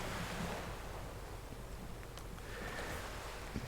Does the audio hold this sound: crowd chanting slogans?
no